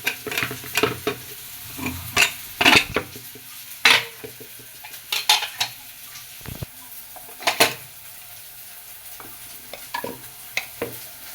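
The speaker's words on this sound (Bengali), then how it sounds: "খিচুড়িটা নাড়া দিচ্ছি" A spoon scrapes and clinks against a pot while khichuri is stirred, in irregular strokes with soft sizzling in between, close and clear with no talk.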